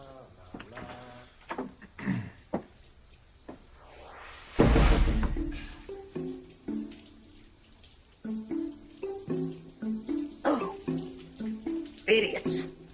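A household shower runs in a steady hiss for a couple of seconds, with people talking before and after it.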